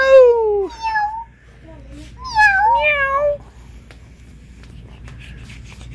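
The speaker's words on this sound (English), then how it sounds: "Oh, scary kitty cat." An animated scary cat decoration in a Spirit Halloween store lets out loud, close, drawn-out electronic meows in two bursts, followed by quieter store ambience.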